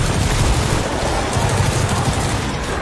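Video game gunfire in a father-and-son shooting session, dense continuous bursts of rapid shots and booms filling the whole stretch, loud and close with no pauses.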